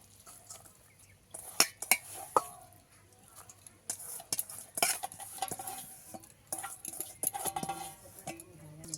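Shrimp batter with turmeric, chopped green chilli and ground coriander is squished and mixed by hand in a bowl, giving soft wet squelches, scattered clinks and taps, and sharp knocks at times.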